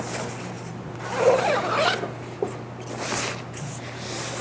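The zipper of a film changing bag for black-and-white developing is drawn closed, a short raspy zip and some rubbing of the bag fabric, close and alone over a faint steady hum.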